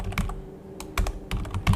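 Someone types "localhost" on a computer keyboard, a quick close run of crisp key clicks in small bursts with brief pauses between them.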